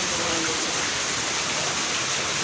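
Floodwater risen after heavy rain rushes in a loud, constant roar like a torrent or waterfall, filling the whole stretch without a break.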